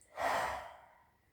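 A single soft exhale during a breathwork exercise is close and audible, rising quickly and then fading over about a second.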